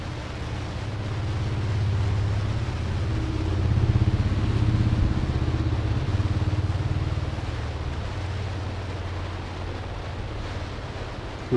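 Steady low droning fishing boat engine rumbles throughout at sea near Phu Quy Island, Vietnam, with a faint wash of water and wind in the background and no talking.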